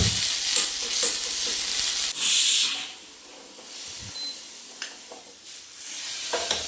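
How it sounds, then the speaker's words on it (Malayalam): Small onions and curry leaves frying in coconut oil in a pan, a loud steady sizzle with stirring scrapes and bursts of spattering hiss. "ഉള്ളി ഒന്ന് മൂപ്പിച്ചെടുക്കുക"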